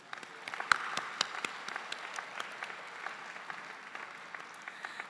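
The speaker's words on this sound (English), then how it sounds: "So join me in giving our graduates a big round of applause." Audience applause for university graduates at a convocation ceremony, a faint, distant-sounding patter of many hands clapping steadily throughout with a few sharper individual claps standing out.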